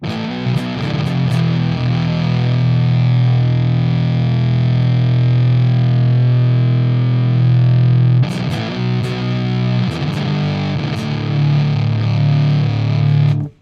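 Heavily distorted electric guitar through a distortion pedal plays a sustained, crunchy chord, then a few picked notes and another long ringing chord, loud and close.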